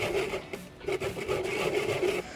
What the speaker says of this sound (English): if we are grating the lemon for the rind, we are going around in circles